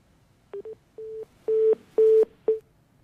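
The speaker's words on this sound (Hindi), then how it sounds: "शायद आवाज जो है वो नहीं पहुंची है, कट गया फोन" A telephone line producing a series of short electronic beeps after a call cuts out during a live TV debate, six clean tones of varying length spaced irregularly over quiet background.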